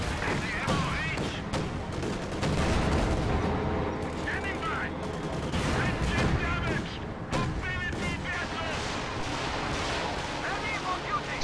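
A Stuka dive bomber attacks during a video game battle, with heavy gunfire bursts and booming explosions rattling through the scene while a voice commentates over the action.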